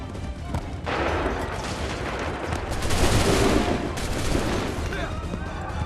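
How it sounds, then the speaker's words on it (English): Musket volleys in the video game Assassin's Creed III, loud crackling rounds of gunfire rolling continuously in a battle scene, with shouted commands over the shots. "Make ready. Fire now."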